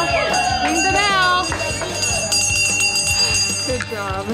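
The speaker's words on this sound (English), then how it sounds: "Go ahead and ring that bell." A bell rings out clearly at a tattoo shop to mark a first-timer, with a few bright chimes over lively voices and a busy room.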